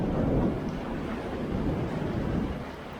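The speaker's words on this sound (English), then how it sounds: "It's thunder and lightning." Thunder rolling during a storm on a mountain road in Turkey, a low muffled rumble swelling and fading over a few seconds with faint wind noise, no speech.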